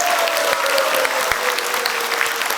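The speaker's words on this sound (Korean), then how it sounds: "모두들 박수 한번 부탁드리겠습니다." Steady applause from a crowd at a launch ceremony, many hands clapping continuously throughout, with a faint tone underneath.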